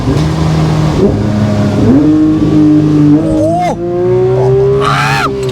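A sports car engine revs hard at high rpm, loud and close, its pitch climbing and falling through gear changes, with light tire noise underneath.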